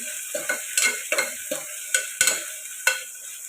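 Ginger garlic paste frying in hot oil for tomato dal, stirred with a ladle: a steady close sizzle broken by repeated scraping strokes against the pan in an irregular rhythm, with no voices.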